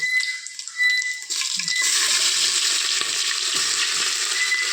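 Onions tossed into hot oil with cinnamon and cloves in a home kitchen hit with a sudden burst of bright sizzling that settles into a continuous loud frying hiss.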